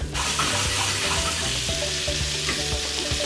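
Jumbo shrimp with tails on fry in hot vegetable oil, a loud, dense, steady sizzle filling the whole moment, close up, with faint music underneath and no speech.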